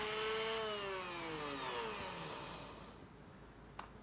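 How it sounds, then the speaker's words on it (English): Wood router pre-routing the truss rod access in a walnut guitar headstock, a loud, steady motor whine that gradually slides down in pitch and fades as it spins down, ending in a faint click. "while the router is still set up, I will pre-route part of the truss rod access on the headstock."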